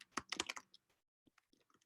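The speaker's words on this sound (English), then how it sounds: "So people are typing at the same time as me." Quick bursts of typing on a computer keyboard, a close flurry of clicky keystrokes followed by a pause and a few softer, fainter taps.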